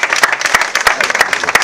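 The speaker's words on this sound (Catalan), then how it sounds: "Un aplaudiment." Loud, crisp clapping from an audience at a folk music and dance evening, with individual sharp claps standing out in a brisk, continuous burst.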